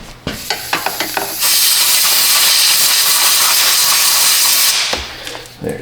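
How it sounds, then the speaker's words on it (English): A compressed-air blow nozzle blasts into the drain hole of a rotted oil pan on a Chrysler Town & Country, giving a loud, steady hiss that lasts several seconds, with clicks and short bursts before and after it. "Let's get a blow nozzle."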